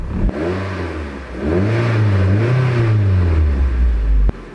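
A Japan-spec Mazda MX-5 Turbo engine revs up loudly and close by, its pitch rising and falling through a couple of sustained swells before cutting off sharply near the end.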